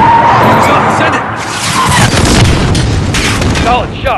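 A missile strike explosion booms loud and close in Call of Duty: Modern Warfare, a broad roaring blast with crashing debris that rumbles on for several seconds.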